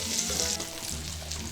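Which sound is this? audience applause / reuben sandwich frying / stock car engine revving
reuben sandwich frying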